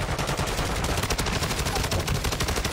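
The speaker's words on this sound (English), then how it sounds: "Did you hear that shoot?" Video game gunfire, a dense rapid burst of automatic shots that keeps going without a break, loud and close.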